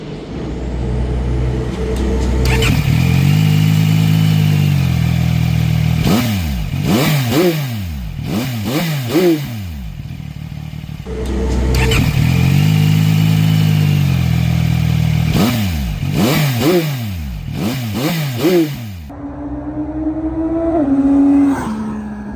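CFMOTO 675SR-R with a liquid-cooled inline three-cylinder engine accelerating hard, revs climbing through repeated gear shifts in two loud runs, each ending in a drop to a steadier drone, with no talk.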